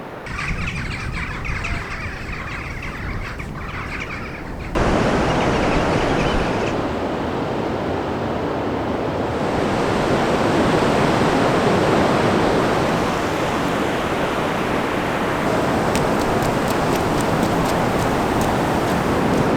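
Steady broadband roar of ocean surf rolling onto a misty beach, loud and continuous throughout, with a quieter, thinner stretch at the start before the wash swells and a few faint bird calls over it.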